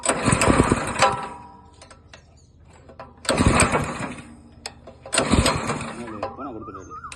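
A 7.5 horsepower power tiller engine in Melur, Madurai revs in three loud bursts, each dropping back to a rough, quieter running between them, with people talking over the noise.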